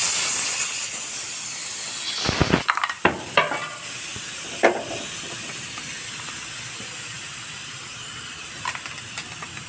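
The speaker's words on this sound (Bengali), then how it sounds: "তেলে রসুন লঙ্কাটা দিয়ে দিলাম।" Chopped garlic and green chili drop into hot oil for palak dal, bursting into a loud sizzle with a few sharp crackles and pops before settling into a steady hiss.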